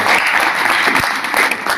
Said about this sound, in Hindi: एक बार साहब के लिए भी जोरदार ताली।